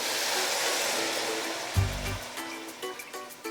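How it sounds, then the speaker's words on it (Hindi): One litre of water is poured into a biryani pot over toasted cumin, a steady rushing splash that gives way to a short deep thud, then lighter clinks and bubbling. "अब हम इसमें शामिल करेंगे 1 लीटर पानी।"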